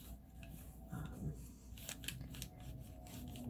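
Scissors snip and rub along the edges of paper while decorating a paper bag, a few soft cuts close up over a steady background hum, with no talking.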